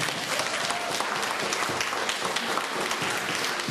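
A crowd at a community book bag giveaway in Sauk Village claps steadily and densely for panelists, a continuous, fairly loud wash of hand claps with a faint murmur of voices.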